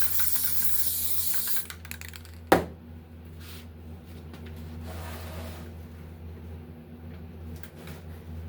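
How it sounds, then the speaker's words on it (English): A hissy burst from a spray can aimed at jeans being prepared for screen printing, loud and close for about a second and a half, then a sharp knock and quiet handling noise. "Let me put some more spray on here first."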